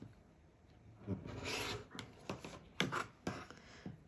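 A rotary cutter trims the edges of a quilt block along a ruler, with a rasping scrape followed by several short, close scratchy cuts and taps, quiet and alone.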